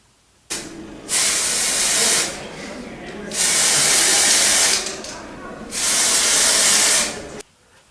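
Several long bursts of hissing aerosol spray paint, close and loud, each lasting a second or two with brief pauses between, used for Beetlejuice costume makeup.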